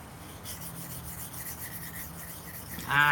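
An S35VN steel knife blade is worked on a whetstone, giving a steady, soft abrasive rub that carries on evenly at moderate level, with a brighter scrape building near the end.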